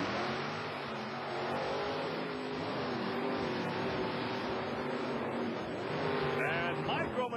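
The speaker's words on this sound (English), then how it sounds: "Micro Machine, Kurt Fisher, spinning the wheels right at the starting line" Monster truck at a 1990 TNT Monster Trucks show in Myrtle Beach, SC, spinning its wheels at the starting line: a loud, sustained engine roar and revving with crowd and arena noise around it.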